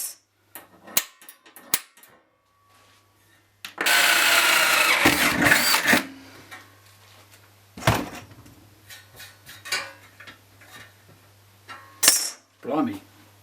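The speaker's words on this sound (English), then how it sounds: "I'll drill a hole big enough to get this whole thing through" A power drill whirs loudly for about two seconds, then stops, with scattered clunks and brief rustling around it in a quiet room.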